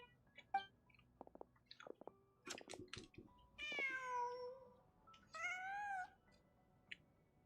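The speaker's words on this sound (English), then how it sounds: "Just a cat." A cat in the video game Genshin Impact meows several times, two long drawn-out cries standing out clearly after a few shorter chirps and soft clicks, close and alone against a quiet background.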